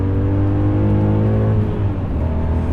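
Engine of a BMW E39 M5 with a manual gearbox pulling under acceleration, a loud steady drone from inside the car that shifts pitch midway, with no talking.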